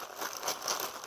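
A Ziploc bag of parmesan coating crinkles briefly in a soft, close rustle while being sealed, no voices present.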